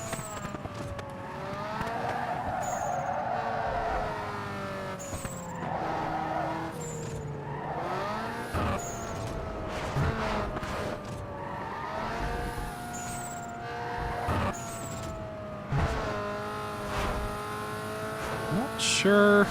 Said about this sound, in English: Sounds like the audio is kind of messed up with the car sounds.